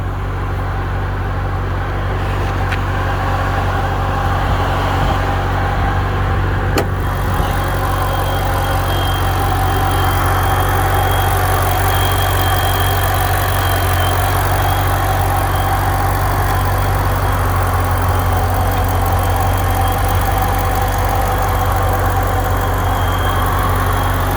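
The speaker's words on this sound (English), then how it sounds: "That's a VMP TVS blower" A supercharged 2011 Shelby GT500 engine with a VMP TVS blower idles steadily up close, a dense low rumble with a faint high whine running through it, continuous and unchanging throughout.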